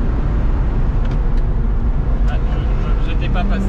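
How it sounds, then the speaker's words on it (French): Lotus Exige 380 Sport engine running in sport mode with exhaust valves opened, a steady loud low rumble heard from inside the car without speech. "Maintenant je vais passer en mode sport, ce qui va avoir pour effet d'ouvrir automatiquement les valves."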